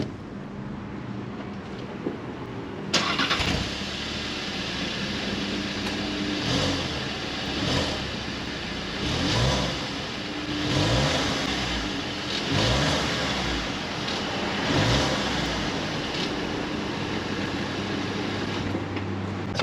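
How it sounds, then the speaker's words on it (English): A 2021 Volkswagen Tiguan with the 2.0T engine starts abruptly after a quiet moment, then settles into a steady close idle with a few soft swells in engine note. "I'm gonna show you guys the startup of the car so you guys can hear it."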